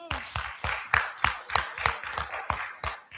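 Sparse applause for Austin Community College at a public hearing: about a dozen distinct, evenly spaced claps, fairly quiet and clearly separated, sounding like one or a few people clapping rather than a full crowd.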